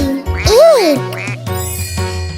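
A sung voice imitates a duck's quack with a bright rising-falling tone over musical accompaniment, followed by further singing.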